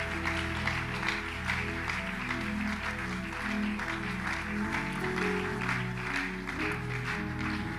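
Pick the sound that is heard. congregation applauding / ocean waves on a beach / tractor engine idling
congregation applauding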